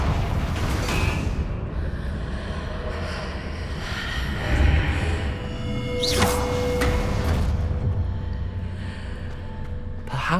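Blasting-spell explosions from Hogwarts Legacy, a fantasy video game, erupt as broad bursts around one, six and ten seconds over a constant dense rumble of game ambience, with no talking.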